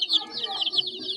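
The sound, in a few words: chickens clucking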